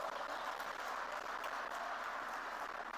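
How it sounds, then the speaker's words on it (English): Steady audience applause for faculty members at a student event, a dense continuous patter heard from a distance and fairly faint, with no talking over it. "Please give them a huge round of applause"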